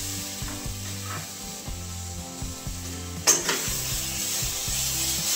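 Milk being stirred into a barfi mixture in a pan, with soft scraping and rubbing of the spoon over a faint sizzle, plus a brief clink of utensil near the middle, under quiet background music and no talking.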